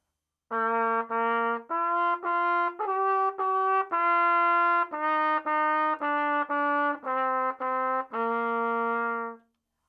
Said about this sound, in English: if I were to take that same music and I play it on an instrument like the trumpet